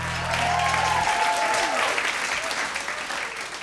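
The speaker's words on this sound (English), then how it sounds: "Keep the applause going for the drums in the back." Concert crowd at a band's album release show applauds the drummer, a full sustained round of clapping with a voice speaking over it and a low hum at the start.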